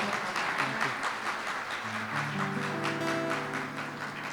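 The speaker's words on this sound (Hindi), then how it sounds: "यहाँ से सिर्फ तालियों की आवाज आ रही है" Audience applause at a church Christmas carol program, steady dense clapping from a crowd throughout with a held musical tone rising underneath toward the end.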